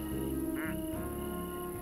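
A plastic duck in the video game Placid Plastic Duck Simulator gives a single short squeaky quack, heard once over a steady, calm game soundtrack.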